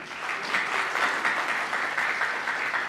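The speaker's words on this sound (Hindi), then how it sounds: "जोरदार तालियां हो जाए" An audience at a book launch event claps steadily and warmly for about three seconds, a dense, even wash of applause with no voices standing out.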